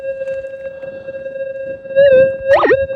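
Gold Monster 2000 metal detector gives a steady electronic hum, then a target signal that warbles and swoops in pitch over a target, loud and close.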